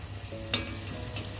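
Achappam batter on a metal mould lowered into hot oil for the Kerala snack: a short burst of sizzling with a sharp crackle near the start, then steady bubbling frying, no voices.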